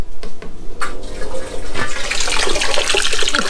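Water pours steadily from a Grainfather G40 brewing system set up as a fountain, a close, continuous splashing rush that carries on without a break.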